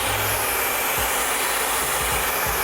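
A hair dryer blows in a loud, steady roar while hair is brushed, with a few faint low knocks underneath and no talking.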